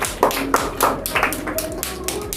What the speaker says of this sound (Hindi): वाह, ताली बजाइए, इनके ताली बजाइए